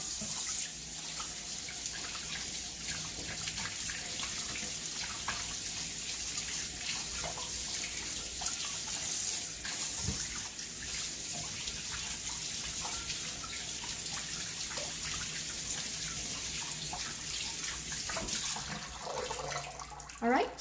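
Cold water runs steadily from a kitchen tap while beef tendons are washed to strip their fat, a constant broadband splashing hiss that lasts throughout, with a voice speaking over it.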